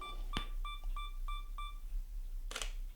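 A camera's two-second self-timer on a wide-angle lens setup gives a sharp click, then four evenly spaced short beeps, followed by a louder shutter snap.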